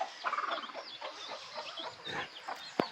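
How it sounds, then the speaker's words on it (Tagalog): Chickens cluck and chatter in a yard in San Antonio, with several birds calling in overlapping bursts nearby and a sharp knock near the end, with no voices. "Tutuka yung mga manok."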